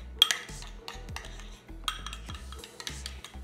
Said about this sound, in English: Now grab your crushed Oreo base and throw the mixture right on top